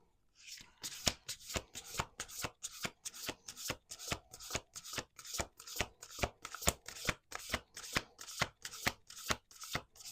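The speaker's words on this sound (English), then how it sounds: "One last shuffle." Tarot cards being shuffled by hand, a fast, regular run of crisp riffling bursts repeating roughly twice a second, close and clear, with no talking.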